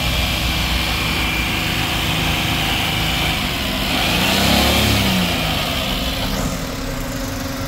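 Radiator cooling fan of a Hyundai Eon with an overheating problem, whirring steadily beside the running engine, a loud continuous broadband hum that swells slightly midway and holds with no voices.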